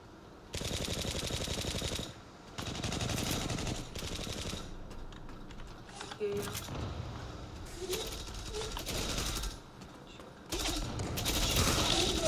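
Rapid bursts of automatic gunfire from the online shooter Zula, loud repeated volleys separated by short pauses, with faint voices in the background.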